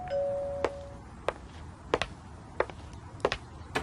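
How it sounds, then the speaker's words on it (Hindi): A doorbell rings once with a sustained electronic chime, followed by a few scattered light taps and knocks in a quiet room. "शाम के वक्त डोरबेल बजी"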